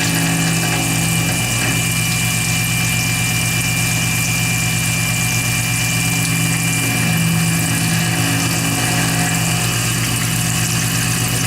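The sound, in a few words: milling machine cutting copper inlay on knife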